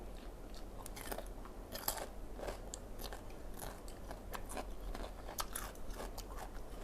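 Crunchy red ant eggs eaten with sticky rice, a quiet close-up of repeated crisp bites and chewing crackles in an irregular rhythm, with no talking.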